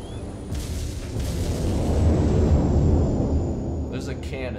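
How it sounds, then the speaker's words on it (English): Cannon fire in the video game Arma II, a deep rumbling boom that swells and fades over a few seconds, followed by sharper distant bursts, with voices talking. "There's a cannon still shooting at me, I think, but I can't see it"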